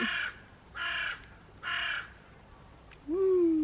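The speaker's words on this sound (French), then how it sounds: "Il y a de temps en temps un petit corbeau qui passe" Crow cawing overhead on a calm day, three loud, evenly spaced caws in a row, followed by a brief higher bird call at the end.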